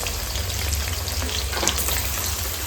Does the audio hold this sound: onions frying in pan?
yes